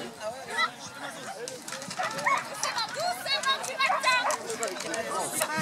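A dog barking and yipping at close range in an excited, irregular burst of sounds, mixed with chattering voices throughout.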